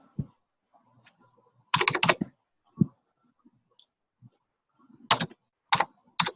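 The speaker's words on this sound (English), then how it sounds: "Someone's typing." Someone types on a computer keyboard during an online video meeting, heard as scattered bursts of rapid clicking separated by quiet gaps, fairly faint and with no speech.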